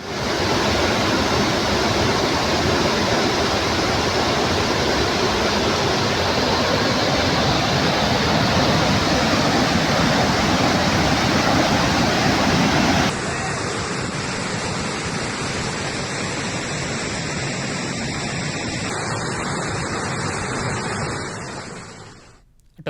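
Swollen streams and rivulets rush after heavy monsoon rain in Nizamabad district, Telangana, a loud, steady roar of churning water that continues unbroken and fades out at the end, with no voices.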